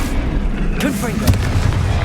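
Booming blasts from the Confringo explosive spell in the video game Hogwarts Legacy, loud rumbling impacts over dense game noise, with a voice speaking over it.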